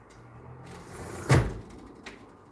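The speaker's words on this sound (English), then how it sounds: "I'm just going to close the patio door" A patio door slides shut with one firm thud near the middle, then a faint click a moment later, in a quiet room with light background hiss on a summer day.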